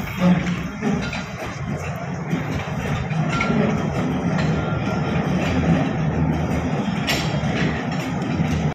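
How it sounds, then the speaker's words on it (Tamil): Tourist train running along its track at Veli tourist village park in Trivandrum, a steady low rumble with faint clattering of the carriages and scattered background chatter. "இங்கே பார்த்தீங்கன்னா ஒரு ட்ரெயின் ஓடுது"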